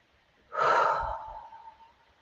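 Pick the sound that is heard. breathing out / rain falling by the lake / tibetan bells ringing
breathing out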